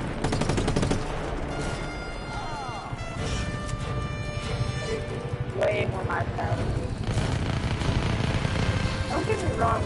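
Bursts of gunfire from a weapon in the action game Just Cause 3, with rapid repeated shots over continuous chaotic game noise while a person talks throughout.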